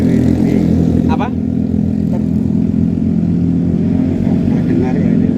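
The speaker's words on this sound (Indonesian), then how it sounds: "Dengar ya ini. Nggih, suara knalpot." A motorcycle exhaust rumbles and revs steadily up close, with a few brief clattering sounds over the engine's throaty drone.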